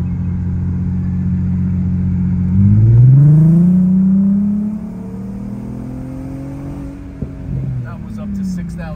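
An R32 with an aftermarket exhaust revs to 6,000 RPM, windows and sunroof open, its loud close engine note climbing steeply then easing back into a lower drone with the cabin rumble.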